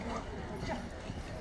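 Horse hooves clip-clop amid a medieval festival crowd, a dense, continuous clatter mixed with outdoor crowd noise and talk.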